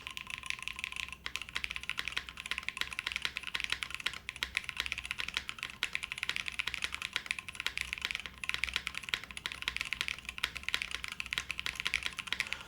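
Steady, dense typing on a custom mechanical keyboard with a slightly hollow character, keystrokes clattering continuously and close up with no talking.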